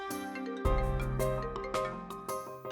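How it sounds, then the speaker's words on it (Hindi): An incoming call on a mobile phone plays a bright, chiming melodic ringtone of several tonal notes, clear and close, with no voices over it. "हाँ कॉल आ रही है।"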